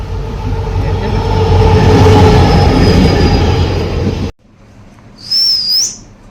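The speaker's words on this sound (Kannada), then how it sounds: "ಟ್ರೈನ್ ಬರ್ತೈತೆ ನೋಡಿ" A train rumbles heavily and steadily up close, then cuts off abruptly, followed by a brief high-pitched squeal like wheels on rails.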